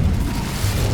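A fire spell, Incendio, cast in the Hogwarts Legacy video game, producing a dense, booming roar of flame that holds steady and loud for about a second.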